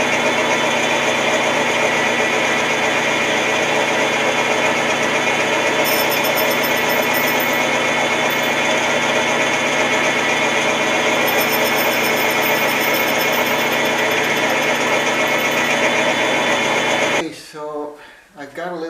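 A lathe takes a light skim cut, a loud, steady machining hum with a constant whirring drone for most of the time before the motor winds down and stops near the end.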